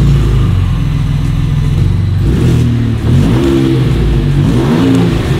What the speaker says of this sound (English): So this is what the Raptor sounds like completely stock.